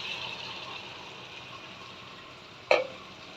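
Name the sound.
water added to sizzling butter chicken pan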